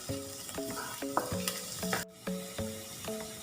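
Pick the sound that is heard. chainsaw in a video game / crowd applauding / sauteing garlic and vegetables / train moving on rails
sauteing garlic and vegetables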